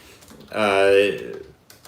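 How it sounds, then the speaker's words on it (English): Short burst of computer-keyboard typing while a poll is entered during a live stream, close and moderately loud, lasting about a second with faint clicks around it. "I'm typing the poll in here by myself"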